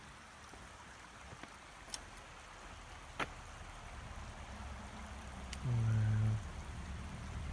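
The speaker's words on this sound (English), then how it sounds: "Listen to that water." Water flows steadily inside a cave at Carter Caves park, a faint, even hiss with a couple of soft knocks, and one person briefly exclaims near the end.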